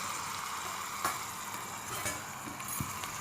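Tomato fries in a miniature pan with a little salt, a soft steady sizzle broken by a few light stirring scrapes, close and alone with no talk.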